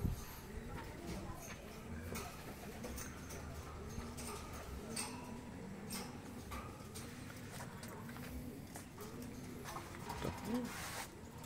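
Paired racing pigeons in a loft give soft, repeated low cooing calls, faint and close, with scattered rustling and light movement throughout.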